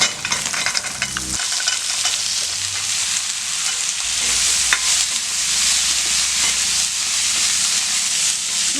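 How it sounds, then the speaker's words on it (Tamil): Sliced carrots sauté in a pan for a carrot and bean stir-fry, giving a steady, close sizzle with occasional scraping and stirring and no talking. "லேசாக இதை ஒரு வதக்கி விட்டுட்டு"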